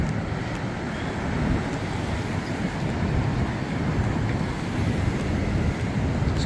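Ocean surf at a beach beside an old street circuit in Newcastle, a constant broad roar of breaking waves mixed with wind rumbling on the microphone, steady and fairly loud throughout.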